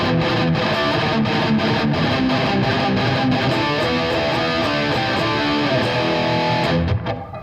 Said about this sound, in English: This is with the boost switcher about halfway.